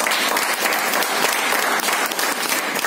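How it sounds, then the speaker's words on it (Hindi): Loud, dense audience applause at an Indian motivational seminar, many hands clapping steadily and close throughout with no break. "जोरदार ताली आप लोगों के लिए।"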